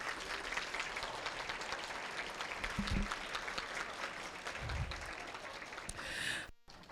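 Guests at an anniversary benefit luncheon applaud their speakers in a sustained, fairly quiet patter of clapping from a mid-sized room, with a few breaths or murmurs mixed in before it cuts off.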